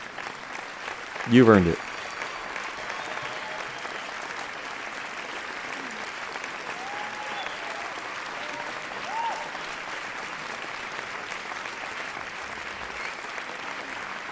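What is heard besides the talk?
audience applause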